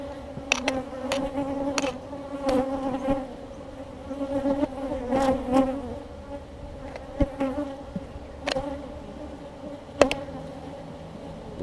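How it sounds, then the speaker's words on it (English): Agitated honey bees swarm and buzz around an opened hive, a dense, wavering drone with individual insects repeatedly zipping close past, varying in loudness. "These are going to get a little more agitated because now we're really disturbing their hive."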